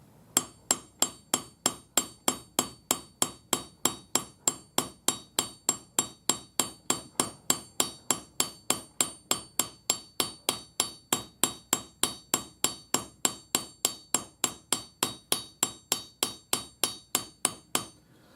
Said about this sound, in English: So I'm just using my anvil, and like I said, the slightly rounded side of my planishing hammer.